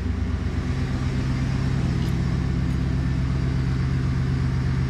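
A 2010 Chevy Silverado with quad exhaust idles steadily after a cold start, a loud, close, even engine rumble with a deep exhaust throb throughout.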